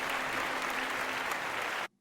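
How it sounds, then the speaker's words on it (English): An audience bursts into loud, sustained applause with dense, steady clapping that fills the space and then cuts off abruptly near the end. "Audience applaud"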